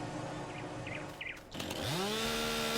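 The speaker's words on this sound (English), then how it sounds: "found the chainsaw, and it's actually running pretty darn good" A chainsaw in the farming video game Farming Simulator 19 fires up partway through, its engine climbing quickly into a steady, buzzing, harmonic drone that holds close and loud to the end.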